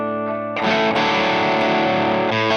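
Electric guitar through a Michelangelo Dophix overdrive pedal set for a light push, a mildly gritty sustained chord after a brief clean note, loud and close with no voice.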